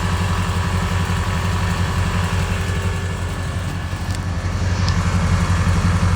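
A horn blaster kit's air compressor runs steadily while filling its air tank, a continuous close mechanical drone with a throbbing low rumble from start to finish.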